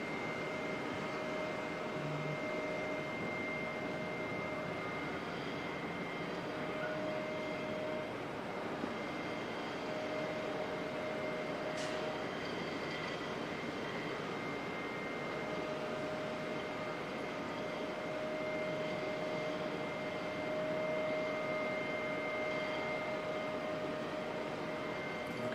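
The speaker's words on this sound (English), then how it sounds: "The black livery domestic A320 next one to come in." A black-livery domestic Airbus A320 arriving at Auckland Airport from Wellington makes a faint, distant, steady jet hum with a few thin whining tones, continuous throughout.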